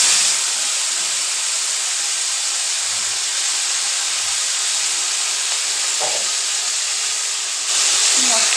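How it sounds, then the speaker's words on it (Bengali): Cauliflower and potatoes, boiled first, frying in hot oil in a wok give a steady, close sizzling hiss that runs unbroken, with a few faint clinks near the end. "কড়াইয়ে তেল গরম করতে দিয়েছিলাম,"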